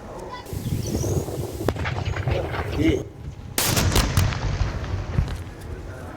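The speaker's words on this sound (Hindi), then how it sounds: "तो पहला धमाका, दूसरा धमाका आप सुन पा रहे हैं।" Loud booming blasts in the open from controlled detonation of mortar shells, with at least two distinct detonations, while a voice talks over the rumble.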